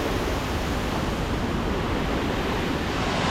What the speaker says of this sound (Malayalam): നമ്മളിപ്പോൾ ചീയപ്പാറ വെള്ളച്ചാട്ടത്തിലാണ്